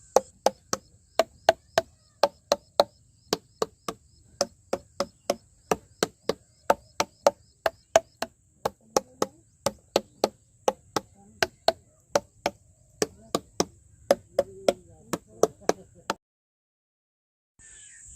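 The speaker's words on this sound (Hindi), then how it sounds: "इसमें हम तरबूज को बजा के चेक करते हैं कि इसमें जो पका हुआ तरबूज है कौन सा है" Watermelons tapped by hand to judge ripeness give a long run of sharp, hollow knocks at a steady rhythm, one after another and close by, with no voices over them.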